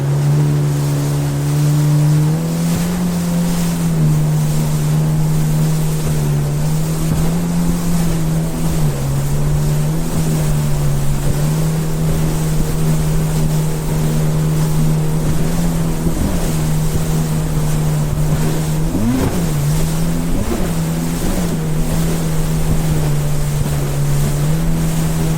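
A 2024 Yamaha VX Cruiser HO personal watercraft runs on the ocean off Sanibel Island, Florida, its engine droning steadily and loudly, pitch shifting with throttle, under constant wind and splashing water noise.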